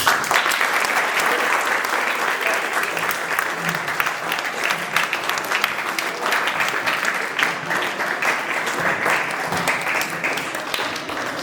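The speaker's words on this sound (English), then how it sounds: "Please give a big round of applause for them" Audience at a NEET-level biology debate giving the participants a big round of applause, dense continuous clapping from a roomful of people that goes on without a pause.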